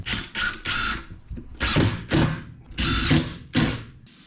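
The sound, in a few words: power drill screwing a panel down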